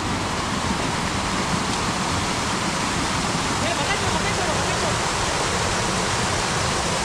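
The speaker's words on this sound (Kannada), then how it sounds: "ಇಲ್ಲಿ ನೀರು ದಾಟ್ತಾ ಇದೀವಿ ಬ್ರಿಡ್ಜ್ ನೀರು" Stream water in a forest rushes loudly and steadily as people cross it near a bridge, a continuous close wash of flowing water with no pauses.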